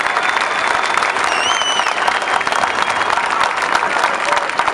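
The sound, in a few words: rally crowd applause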